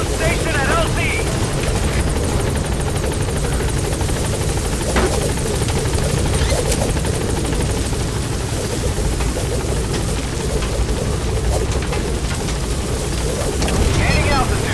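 A helicopter in Metal Gear Solid V holds at a landing zone, its loud rotor and engine roar a dense, steady wash for the whole span, with talk under it.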